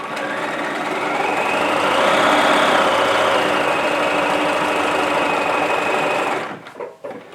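A sewing machine stitches backwards and forwards on fabric with a close, steady mechanical whir that builds, holds and then stops, followed by a few handling clicks.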